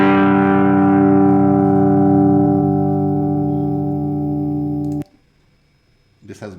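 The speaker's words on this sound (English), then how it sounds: "This is after hyperbolic tan distortion." A guitar G chord run through hyperbolic tangent distortion in Python rings out steady and loud for about five seconds, then cuts off abruptly to near silence before a short voice fragment.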